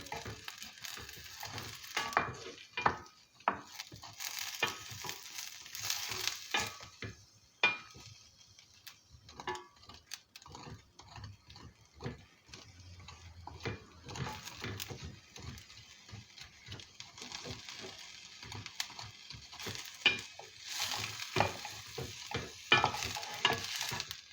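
Meat and chickpeas fry in a pan for an etli nohut stew, with close, irregular sizzling crackles and frequent stirring clicks and scrapes against the pan.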